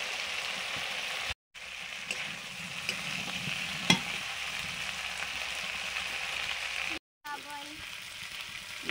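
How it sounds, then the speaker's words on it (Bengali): Fried yam and fish go into hot spiced oil for a Bengali fish curry, giving a continuous hissing sizzle with stirring scrapes, broken by two brief silent gaps and one sharp clack near the middle. "এবার ভাজা ওল আর মাছ দিয়ে দিচ্ছে না"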